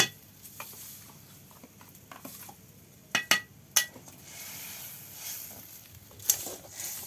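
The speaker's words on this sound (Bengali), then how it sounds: "এবার সামুদ্রিক মাছের শুটকি আর চিংড়ি মাছের শুটকি ভেজে রাখাগুলো দিয়ে দিলাম। এগুলো আর একটু কষিয়ে নেব।" Dried sea fish and dried shrimp stir-fried in a pan, with soft stirring rustles and a few sharp clinks and scrapes of a spoon against the pan, close and fairly quiet, no talking.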